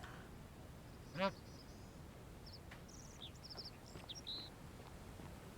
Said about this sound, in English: You can talk to a goose?